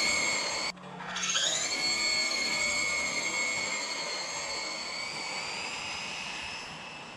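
A Traxxas Drag Slash RC car makes a full-throttle launch, its motor rising in a high-pitched whine that holds loud and steady for several seconds before gradually easing.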